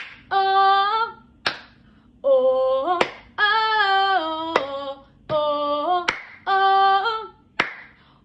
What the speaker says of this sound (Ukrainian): Давайте спробуємо плескати кожну слабку долю.